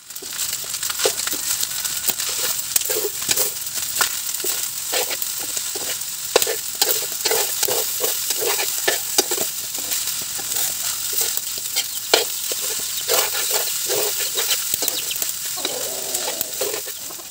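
Sinangag, Filipino garlic fried rice, being stir-fried in a pan, with a steady close sizzle and repeated scraping, tossing strokes of a spatula throughout, no talking.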